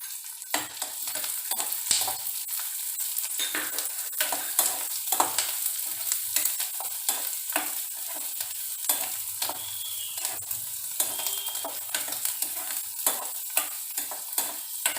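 Long-sliced onions fry in hot oil with golden garlic in a pan for kadhi pakoda, a continuous loud sizzle broken by frequent scraping and stirring strokes of a spoon against the pan.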